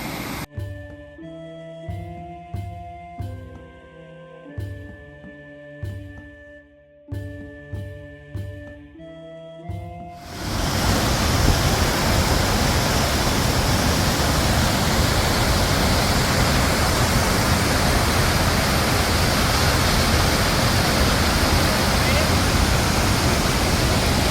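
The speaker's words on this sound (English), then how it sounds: "But the waterfall happens here, and then it goes down that way." A waterfall near Reykjavik, Iceland: music plays for about ten seconds, then a loud, steady, broad roar of rushing water takes over and continues without letup.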